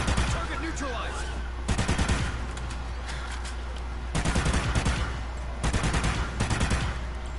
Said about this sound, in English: And there's a scorpion shooting me.